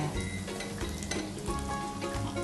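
Peanuts frying in hot oil for Brunei-style satay peanut sauce, a dense, steady crackling sizzle with small pops throughout, heard alone without any talk.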